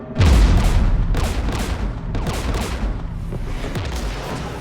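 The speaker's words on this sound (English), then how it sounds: "We're taking fire." Heavy gunfire and booming blasts rattle through a Mass Effect 3 battle near a Geth jamming tower with anti-aircraft guns, dense and continuous with repeated loud bursts across the whole stretch.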